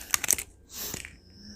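A bottle of WhistlePig 10-year straight rye whiskey, 113.8 proof, being opened: a few sharp close crackles and clicks from the cap and seal, then a soft breathy scrape, with no pop, quiet and near.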